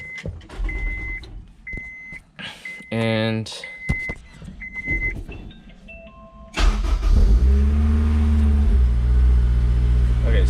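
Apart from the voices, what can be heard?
Honda S2000 car engine starting and running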